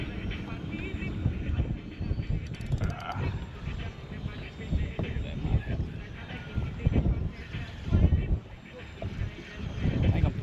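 Gusty wind rushes and buffets outdoors during a fishing trip, giving a low, uneven rumbling roar that rises and falls in strong bursts close to the microphone.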